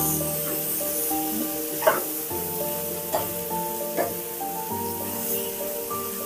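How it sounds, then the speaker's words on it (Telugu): Boiled chickpeas and peas are stirred into a sizzling tempering for a sprout salad. A soft, continuous sizzle runs under steady background music, with a few short scraping stirs. "ఈ శనగలు, బఠానీలు ఇవన్నీ కూడా వేసేసుకొని ఈ పోపు అంతా బాగా పట్టేలాగా కలుపుకోవాలి."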